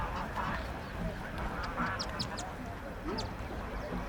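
Ducks quack repeatedly close by over an open outdoor ambience at Zoo Lake, Johannesburg, South Africa, with scattered higher bird calls and a faint background murmur.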